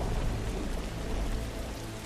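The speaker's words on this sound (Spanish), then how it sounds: "Vaya tormenta" Dense, steady rain hisses in the video game The Last of Us, a continuous wash of rainfall with a low rumble of thunder underneath and no voices.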